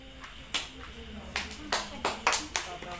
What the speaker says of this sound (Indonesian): Suara apa itu? Tepuk tangan.